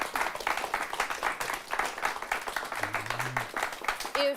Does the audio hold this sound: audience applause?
yes